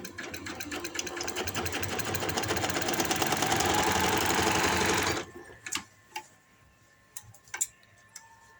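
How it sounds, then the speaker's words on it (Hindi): A sewing machine stitches palazzo pants in a steady, fast, close-up run of about five seconds. It then stops, leaving a few scattered clicks and taps. "तो ये मैंने एंड तक इसे सिलाई लगा दी है।"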